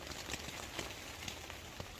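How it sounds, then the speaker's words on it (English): Steady rain patters on a backpacking tent, an OEX Coyote III, at night, a dense close hiss with scattered louder drops tapping the fabric, and no voices. "But yeah, this rain."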